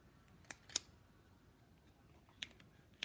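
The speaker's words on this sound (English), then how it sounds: "take your scissors and cut through some of those ribs" Scissors snipping through pig ribs during a dissection: a few sharp, faint crunching clicks, two close together early and two more near the end, over a quiet room.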